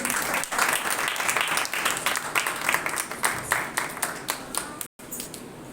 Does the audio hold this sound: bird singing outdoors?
no